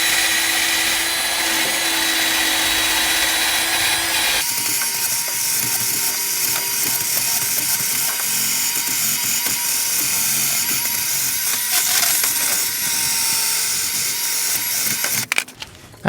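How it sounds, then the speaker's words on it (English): A power-driven wire wheel grinds rust off rear axle U-bolts on a GM OBS Chevy/GMC truck, a continuous loud whirring scrape that shifts pitch as it bites into the metal and cuts off abruptly at the end. "let's go ahead and wire wheel this off"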